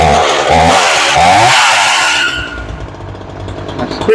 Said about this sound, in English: I'm going to put her back on the floor to start her.